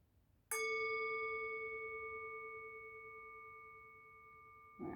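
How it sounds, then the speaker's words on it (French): A single bell is struck once to open a yoga practice. It rings out with a clear, pure tone and a long, fading sustain in a quiet room. "vous laissez guider par le son de la cloche qui nous permet d'entrer dans cette pratique"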